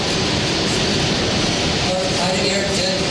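A passing train makes a continuous loud rumble and rattle near a tower construction site, filling the whole stretch without a break.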